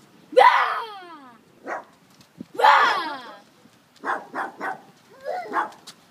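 A dog nearby gives several short yelping barks and whines, with a few louder cries among them, while people speak around it.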